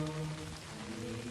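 Steady rain falls during a short stretch with an even, dense hiss, with some low hum underneath and no clear voices.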